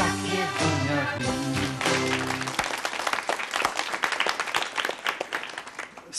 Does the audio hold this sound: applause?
yes